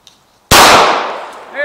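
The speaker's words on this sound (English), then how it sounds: "I'm gonna fire what's left in my magazine here." A single loud gunshot cracks sharply out of near-silence and rings out in a long decaying echo while the remaining rounds in the magazine are fired toward a chain-link fence.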